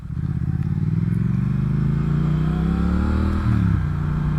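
Engine of a 2019 Triumph Speed Twin motorcycle being ridden, a loud close throbbing drone whose pitch climbs smoothly through the revs, then drops briefly as if shifting gear before settling, with no speech.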